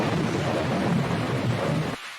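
A loud, continuous rumble of thunder rolls through a heavy storm with rain, filling the air for about two seconds before cutting off abruptly.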